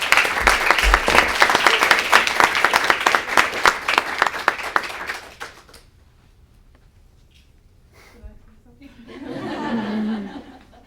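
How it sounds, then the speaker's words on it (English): A round of applause for one of the year's best Portuguese Brazilian Studies students fills the room with dense clapping and some laughter for about six seconds, then fades to quiet before a short burst of murmuring and talk. "Round of applause to you."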